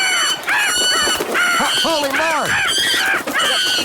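Geese and French hens squabble up close, loud honking calls repeating in rapid, overlapping bursts, while a person exclaims briefly over the commotion.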